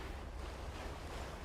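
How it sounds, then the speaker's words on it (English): Electric water kettle at a rapid boil for tea, giving a steady, dense rushing hiss like white noise that holds evenly throughout with no breaks. "The water kettle, just the sound it makes, water makes when it's quick boil."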